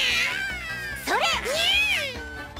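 Several cartoon cats meow and yowl in overlapping, pitch-sliding calls, loud and close, with a busy, noisy crowd of cats.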